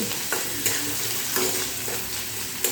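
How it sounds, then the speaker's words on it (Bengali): Chopped garlic, dried red chillies and black cumin sizzle in hot oil, a steady close crackle with soft stirring scrapes at regular intervals. "এবারে তেলের সঙ্গে এই রসুনটা একটু ভালো করে ভেজে নিতে হবে"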